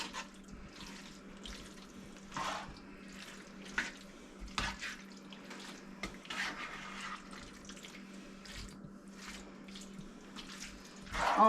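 Shepherd's pie filling being scooped and turned in a bowl gives soft, wet, squelchy stirring sounds in irregular bursts, fairly quiet and close, with a steady low hum in the background.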